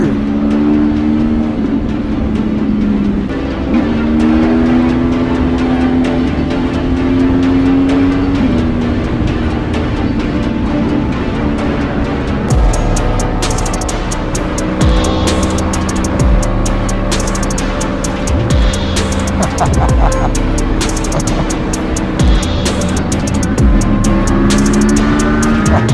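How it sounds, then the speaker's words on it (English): Sport motorcycles such as a Ducati Superleggera V4, BMW M1000RR, Aprilia RSV4, Yamaha R1M and Suzuki GSX-R ride and merge on a highway, engines droning and shifting pitch close by, then a deeper pulsing rumble with sharp rising revs in the later half. "Bikes merging on the highway."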